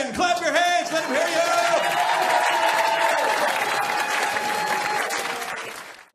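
Audience applause and clapping for comedian Chard Hogan as he takes the stage, a dense, steady roar of many hands lasting several seconds, with crowd voices and whoops mixed in before it tapers off at the end.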